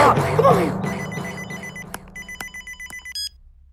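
A telephone rings in a Telugu movie scene, a quick string of bright, evenly spaced bursts that follows a stretch of voices and background tones.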